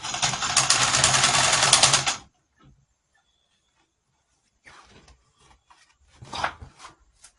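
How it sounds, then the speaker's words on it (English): Sewing machine stitching blouse fabric, a steady fast whirring run for about two seconds that stops abruptly, followed by faint handling and rustling of the material. "So let's keep sewing."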